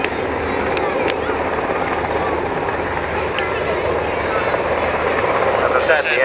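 A Sea King twin-engine helicopter, developed from the SH-3, flies at the Lowestoft air show, its steady rotor and engine roar filling the air continuously at close range.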